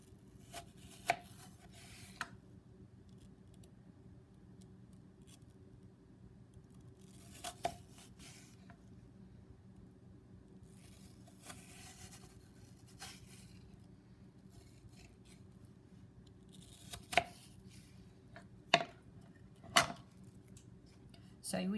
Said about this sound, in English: I'm going to make 1/4 inch slices on these first and then cut them in half.